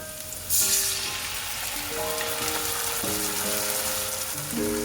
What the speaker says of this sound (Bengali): আমার ভাজা হয়ে গেছে, আমি এবার আদা রসুনের পেস্টটা দিয়ে দেবো।